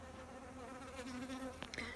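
Honeybees swarm over a hive frame during a brood check, with varroa-damaged and wingless bees present, producing a continuous close, steady buzzing drone.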